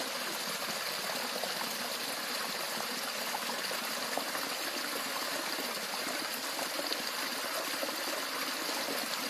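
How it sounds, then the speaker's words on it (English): A roadside spring along Smith River Road flows slowly, making a steady, even trickle and babble of running water that continues without a break, close by and with no voices. "The flow of this water is slow"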